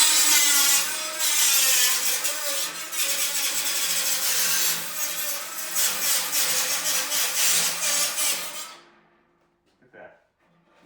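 A cutoff saw with a spinning abrasive wheel cutting through metal, a loud harsh grinding whine that holds for about eight seconds, then cuts off and winds down to near silence.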